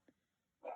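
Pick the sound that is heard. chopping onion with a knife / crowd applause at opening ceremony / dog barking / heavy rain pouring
dog barking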